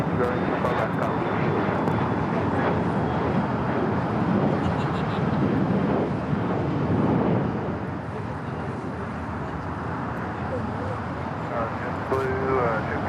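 Jet airliner engines roaring at LAX as a plane takes off from runway 25, a steady broad rumble held throughout at moderate distance, with air traffic control radio chatter running underneath.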